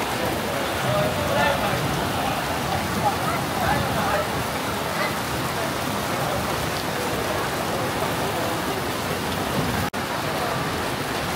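Heavy rain pours steadily during a Tanabata festival in Japan, a dense, continuous hiss of drops on surfaces with a brief thud near the end, and no voices come through over the downpour.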